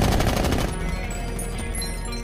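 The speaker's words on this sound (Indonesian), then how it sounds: "Bishop dan Steve mencegat mereka dengan menembaki para pengawalnya lebih dulu" Gunfire rings out in an action film shootout as bodyguards are shot, a dense, loud burst of rapid shots with heavy reverberating echoes that fade into a sustained rumble.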